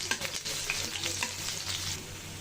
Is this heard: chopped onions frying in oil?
yes